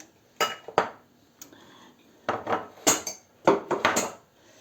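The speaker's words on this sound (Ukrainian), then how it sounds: "і це змішуємо тепер усьо гарно" Egg white being mixed into dough in a bowl, with irregular clinking and scraping of a utensil against the bowl in short close bursts separated by brief quiet gaps.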